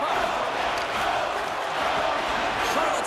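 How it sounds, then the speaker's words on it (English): Hockey arena crowd cheering at an AHL Calder Cup playoff game, a dense continuous roar of many voices filling the space at a constant loud level without pauses. "You can feel the energy in this crowd"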